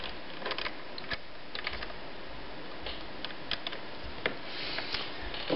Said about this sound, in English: So that should snap right in there.